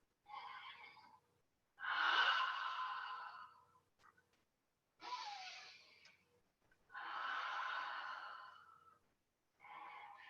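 Slow, deep breaths during a beginner yoga session, long breathy inhales and exhales in a steady rhythm, several in a row, close and clear with silence between.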